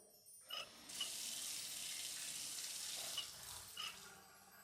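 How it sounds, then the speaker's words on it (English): Tap water pours steadily from a faucet for about four seconds, a bright continuous rush with a few small clinks at the start and near the end, close by and with no talking. "Ooh, faucet."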